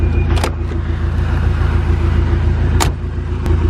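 A Porsche 944 sits running with a steady, loud low idle rumble close by, broken by a couple of brief clicks and clunks.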